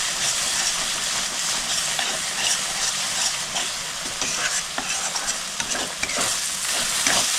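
Spice masala being stir-fried in a hot pan for a Bengali dish of taro stolons with small mourola fish, a steady broad sizzle and hiss with scraping stirs throughout, close and continuous, no voices.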